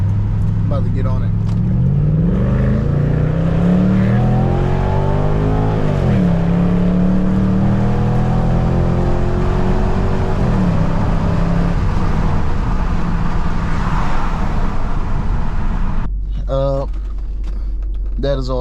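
A Lexus SC300/SC400 engine, just fitted with a new fuel pump, revs up repeatedly, the pitch climbing and falling in several pulls of the throttle before cutting off abruptly near the end, loud and close.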